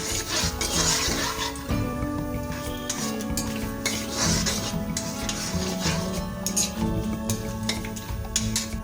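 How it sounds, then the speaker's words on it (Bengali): Bay leaf, dried chilli and whole cumin are stirred in hot oil in a kadai, with a spoon repeatedly scraping and clinking against the metal pan over a continuous close sizzle. "এই গরম তেলের পর আমরা যোগ করবো তেজপাতা, শুকনো লঙ্কা, আর এর সঙ্গে আমরা যোগ করে দেবো 1 চা চামচ গোটা জিরে"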